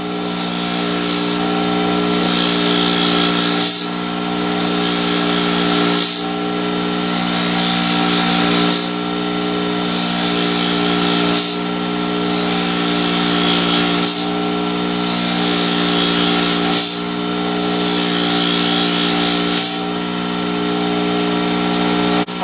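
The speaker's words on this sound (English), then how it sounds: "I'm going to feed it in the direction of the wheel." A polishing wheel hums steadily against stainless steel, loud and close, its tone rising and dipping in regular passes about every two and a half seconds as the metal is fed into the wheel to sand and polish it.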